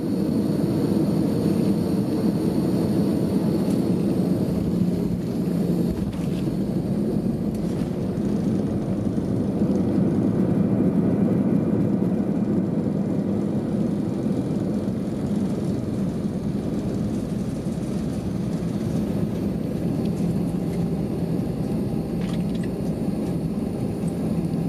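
Airliner cabin during landing on runway 23 left at Düsseldorf airport, a steady loud engine and airflow roar that holds evenly throughout with no talk.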